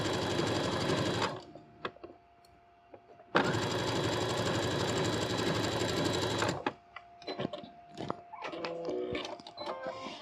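Sewing machine running a zigzag stitch along a folded hem, two loud steady whirring bursts of a few seconds each separated by a pause, followed by quieter clicks and handling noises nearby.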